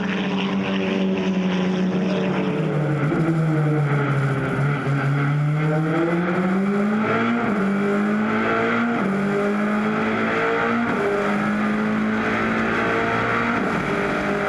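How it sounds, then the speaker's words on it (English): An Audi GTC Series race car engine at Zwartkops, heard from inside the cockpit, drones loudly and close, its pitch rising and falling through gear changes and throttle lifts without pause. "That Audi sounding smooth and mean."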